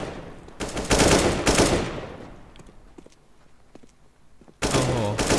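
Bursts of rapid gunfire in a CS:GO match, with loud automatic volleys near the start, a quieter stretch of scattered shots and clicks, then another heavy burst at the end.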